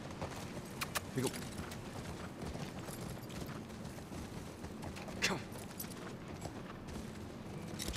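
Horse hooves clip-clop in The Last of Us Part 1 video game, a steady rhythmic trotting beat under ongoing game ambience and occasional voices.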